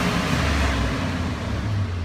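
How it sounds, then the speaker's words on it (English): A 6.0-liter LQ4 V8 in a 2001 Chevy Silverado LS runs steadily and loud, a deep low rumble holding throughout with a slight rise in pitch near the end, with no voices present. "We'll give her a couple revs, see how everything sounds."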